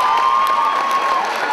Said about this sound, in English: let's give African women a big round of applause